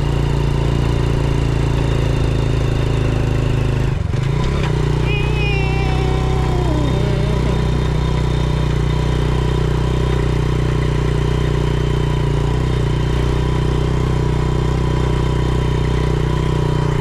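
Small 100cc single-piston motorcycle engine running steadily on a road, a loud continuous drone with a brief bump partway through and no talk.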